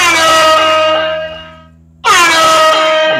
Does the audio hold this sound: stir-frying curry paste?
no